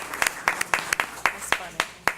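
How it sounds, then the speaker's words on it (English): At a school board meeting, a few people clap in sparse, distinct claps, about a dozen sharp hits spaced unevenly and close by. "let's give them a great big round of applause for their hard work."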